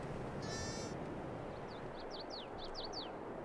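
A sheep bleats in the farming video game Farming Simulator 22, one short faint bleat over a steady low background hum, followed by several quick bird chirps.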